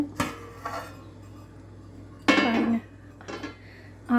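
A metal lid lifted off a pot of jackfruit biryani, with a few short clanks and scrapes of cookware, the loudest a ringing clatter in the middle, set against a quiet kitchen.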